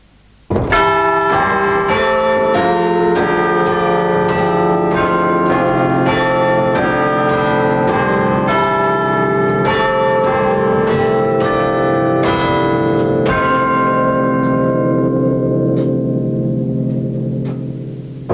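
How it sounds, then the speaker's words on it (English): Church clock chimes at Beverley Minster, a tune played by pegs on a drum working levers, ring out as a loud, steady sequence of bell strikes that overlap and sustain, then decay away at the end. "The clock chimes, which are the tune that the clock plays, are played by pegs in this drum here, operating these levers."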